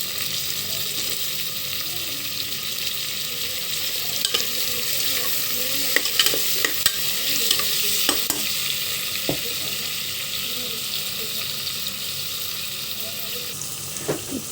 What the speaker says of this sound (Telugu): ఇలా ఫ్రై అయ్యేటప్పుడు నేను ఒక టమోటా కట్ చేసి పెట్టుకుని టమోటా ముక్కలు వేస్తున్నాను.